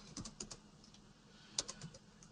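Quiet computer keyboard typing at a desk: a few quick, light key clicks in short bursts with pauses between, close but soft.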